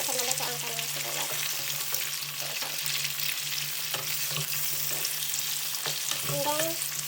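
Onion frying in a pan for adobo, a steady crackling sizzle with occasional stirring scrapes, close and moderately quiet, with a low hum beneath and brief voices in the background.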